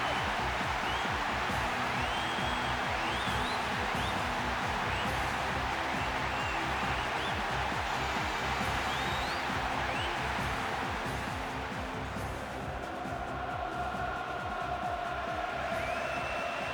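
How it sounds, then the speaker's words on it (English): A stadium crowd in the PES 6 football game roars steadily and loudly throughout, with a continuous wash of cheering, brief whistles rising above it, and a commentator's voice running underneath. "Roar from the crowd as the game gets underway."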